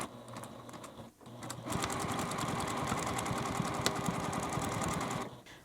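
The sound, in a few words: sewing machine stitching a zipper pouch handle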